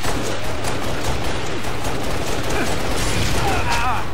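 Rapid carbine gunfire in a first-person shooter match, dense crackling shots and mechanical clatter running continuously at steady loudness across the whole stretch, with faint game voice chatter mixed underneath.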